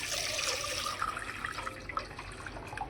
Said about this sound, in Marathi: त्यात पाणी टाकून घेऊ.